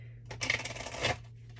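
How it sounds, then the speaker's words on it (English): Oracle cards from a Keepers of the Light deck being shuffled by hand, a quick close burst of papery riffling and flicking that swells for under a second, with a steady low hum underneath. "Whenever I shuffle like that, sometimes they get like stuck."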